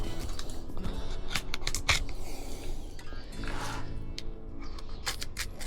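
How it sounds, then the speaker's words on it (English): Crunchy snapping bursts as a knife cuts through the rib bones of a small Nannygai during cleaning, several sharp cracks close up over steady background noise. "put your knife in here and crunch straight through the ribs like that"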